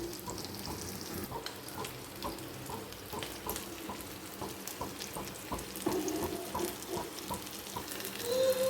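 Fish frying in a pan gives a continuous close sizzle with frequent sharp spattering pops and crackles, rising slightly toward the end, with no talking.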